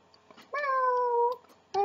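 Two meows, a long drawn-out one followed by the start of a second, close and clear over a quiet background, most likely a person imitating a cat.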